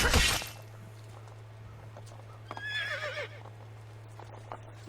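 A horse in Assassin's Creed II gives a short, clear whinny in the middle, with a few hoof clops and a thud before it, set over a low steady game hum.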